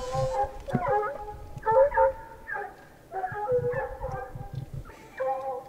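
Hunting dogs on a mountain lion trail bay and yelp in repeated bursts of barks and whimpering howls, moderately near and outdoors, with faint talk in the background.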